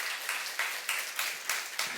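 Church youth congregation applauding during a Korean sermon, a crowd of hand claps rising in regular surging pulses about every third of a second, dense and fairly loud with no talk.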